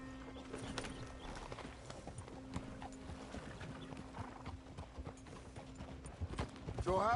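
Horse hooves clip-clop at a steady, quick pace in the Red Dead Redemption 2 video game, moderately faint, with a brief whinny near the end.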